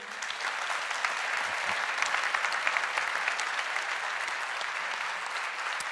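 A conference audience applauding after an interview session, dense continuous clapping from many people at moderate distance, even in level from start to finish.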